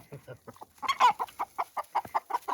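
Chickens in a greenhouse coop cluck in quick, close bursts, a busy run of short clucks with one louder squawk near the start.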